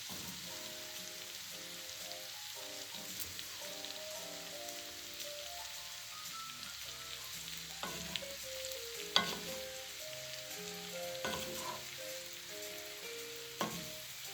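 Cabbage and onion sizzle steadily in bacon grease in a pan, a continuous close frying hiss with occasional stirring clinks and scrapes, no voices.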